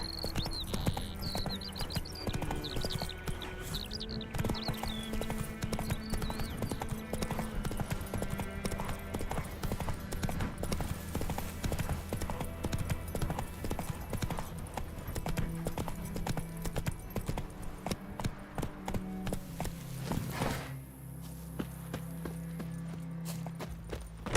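Roach, Geralt's horse in The Witcher 3: Wild Hunt, galloping: a continuous rapid clip-clop of hooves with a brief whinny, running for the whole stretch under game music and faint voices.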